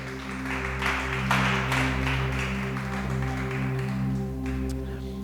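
Congregation in a church breaks into applause for the King, a broad wash of clapping swelling over sustained organ-like music chords, moderately loud and continuous without speech.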